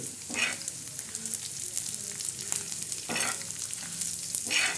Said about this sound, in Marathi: आता धणे चांगले असे भाजून घ्यायचे